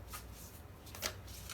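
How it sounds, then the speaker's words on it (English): A tarot deck, The Wild Unknown Archetypes, being shuffled by hand in a quiet room, giving soft papery riffles with a sharper burst of card flutter near the end. "I am already shuffling the deck"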